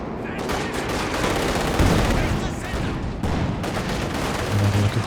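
Machine gun fire in Company of Heroes 2, a 2v2 World War II strategy match, sustained rattling bursts mixed with heavier explosive booms, loud and continuous over a dense battle din.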